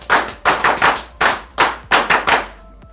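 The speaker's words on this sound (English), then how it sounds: "Let's give our classic 10 clap to 10, which goes 1, 2, 1, 2," An audience performs a rhythmic group clap in unison, loud sharp bursts in a one-two, one-two-three pattern, heard clearly with no talking.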